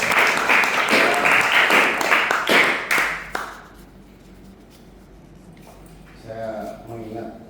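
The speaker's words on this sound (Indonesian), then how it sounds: "Kita beri tepuk tangan dulu." Applause from students at a school research paper event rings out for about three seconds, then gives way to quiet room tone and a voice speaking.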